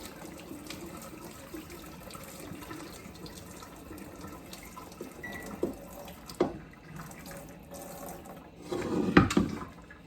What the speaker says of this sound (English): we're draining off the salted water.